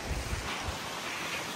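Glacier meltwater of the Mandakini river on the Kedarnath to Gaurikund trek, a faint, steady rush of flowing water with wind buffeting the microphone and a few low thumps at the start, with no talking.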